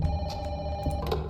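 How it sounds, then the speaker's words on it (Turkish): Continuous ringing from a telephone in the horror game Don't Be Afraid, a steady trilling tone at close range with a few soft knocks and shuffles mixed in. "Kapıyı geç telefon çalıyor."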